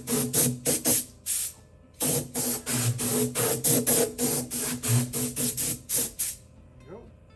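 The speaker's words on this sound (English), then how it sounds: "You just want to air chuck the body and the sound hole as well." An air chuck blows dust off the body and sound hole of a classical guitar in a repair shop, giving a series of loud, close hissing bursts in irregular rhythm, each a second or less, with a short gap partway through.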